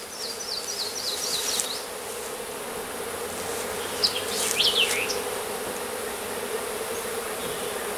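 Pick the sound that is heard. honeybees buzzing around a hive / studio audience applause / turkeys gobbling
honeybees buzzing around a hive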